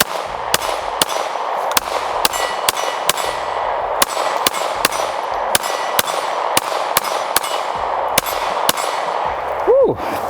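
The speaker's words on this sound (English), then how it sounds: "let's go ahead and take it downrange, shoot a little bit" A Springfield Prodigy DS pistol fires downrange in a steady string of about twenty sharp, clanging reports at short, slightly uneven intervals over a constant background hum.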